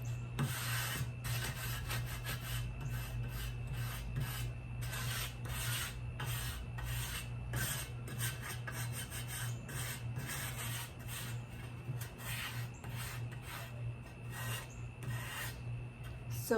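Sandpaper rubs back and forth over a wooden tray in quick, repeated scratchy strokes, close and fairly quiet, with a steady low hum underneath.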